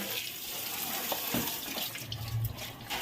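Tap water runs steadily into a sink or basin while leafy greens are washed, a soft continuous splashing with a few faint knocks, close by and without speech.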